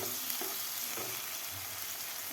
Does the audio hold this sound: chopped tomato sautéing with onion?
yes